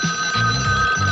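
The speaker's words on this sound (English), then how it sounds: "it's the pizza phone" A telephone rings loudly and continuously, its bright electronic bell tone held throughout at close range with no speech.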